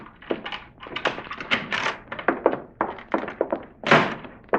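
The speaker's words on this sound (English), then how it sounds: "Get that door open." A door being forced open in a 1952 radio crime drama: a rapid run of wooden thunks, taps and knocks, close and fairly loud, with no voice over them.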